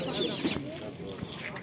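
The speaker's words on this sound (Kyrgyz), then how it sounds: "Короз, тоок бүт баары чыгыптыр." Chickens and roosters cluck in short bursts at an outdoor bazaar in Karakol, heard briefly beneath nearby market chatter.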